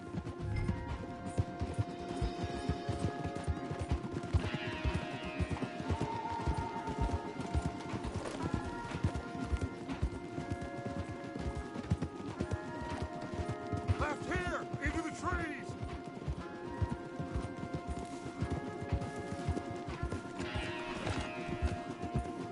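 Rapid hoofbeats of galloping horses in Red Dead Redemption 2 pound steadily throughout, mixed with music and a brief spoken line.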